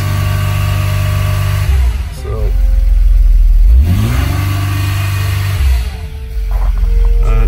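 A Mercedes CLK 320 3.0 V6 common-rail diesel (OM642) in limp mode, with the engine light on, revs in repeated blips that rise and fall without climbing past about 2000 rpm, loud and close, with no talk.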